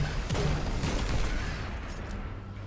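Turret gunfire in the video game Destiny 2, rapid sharp shots that crackle through a steady wash of battle noise at moderate loudness.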